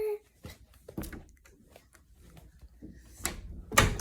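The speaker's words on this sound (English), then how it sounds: "and then let's just close my door" An interior room door is shut at home, with a few soft bumps and knocks before a louder thud at the end, close by in a quiet room.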